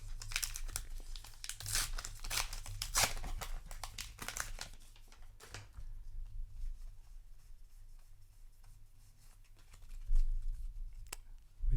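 A Flesh and Blood Uprising card pack is torn open, with loud, close crinkling of foil wrapper in the first few seconds, then quieter rustling and handling of cards, no talking.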